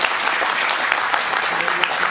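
Dense audience applause at a film screening and director talk in a cinema, a steady wash of many hands clapping, close and fairly loud, continuing evenly throughout.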